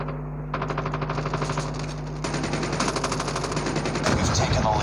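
Rapid automatic gunfire from a video game shooter rattles in sustained bursts, loud and dense, with steady game background noise underneath and no voices over it.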